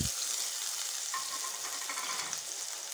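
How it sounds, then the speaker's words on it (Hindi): Potato pieces frying in hot oil for an Afghani omelette, a steady, close sizzle and hiss that fills the whole moment without any talk. "और इसको 2 से 3 मिनट फ्राई करेंगे ऑयल में।"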